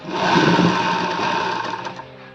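A sewing machine runs in one continuous steady whir, close and loud, stitching elastic onto fabric, with no voices over it.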